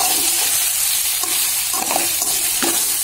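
Flour-coated chicken pieces frying in a pan for Chinese black pepper chicken, a loud, dense, continuous sizzle close up with a few soft stirring knocks, no talking.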